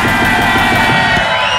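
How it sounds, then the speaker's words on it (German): A loud crowd cheers, whoops and shouts for the winner of a challenge finale on stage, with the rhythmic claps merging into a bright, sustained roar throughout. "Bitte nochmal Applaus für den Sieger"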